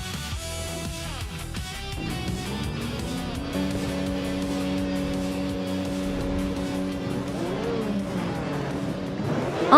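A vintage 1988 Colony FC 188 race car roars in a video game race, its loud engine note climbing and then holding a steady high drone. Faint tire squeal and other cars can be heard near the start.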